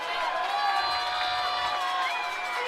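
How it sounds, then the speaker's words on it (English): Crowd of Castle high school football fans cheering for their defense at an IHSAA game against Evansville Memorial, a steady roaring wall of shouts and whoops from a distant stand. "Castle faithful cheering on the defense here."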